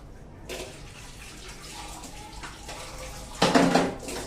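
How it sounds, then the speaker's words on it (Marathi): Water poured into a pan of drumstick masala curry on the stove, a steady wet pour with a louder gush near the end, no talking. "आणि मग हे पाणी आपण याच्यामध्ये टाकूया"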